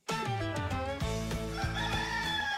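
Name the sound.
rooster crowing sound effect in radio station ID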